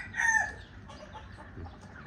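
Farm chickens cluck while a rooster crows. A louder, sustained call rises at the start, then softer, scattered clucking continues through a noisy outdoor background.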